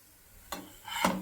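Aloo paratha cooking on a hot pan gives a brief soft sizzle with scraping and stirring-like rubbing, two short bursts building in loudness, no voices.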